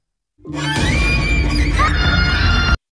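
A child's loud, sustained high-pitched scream erupts suddenly and holds for about two seconds before cutting off.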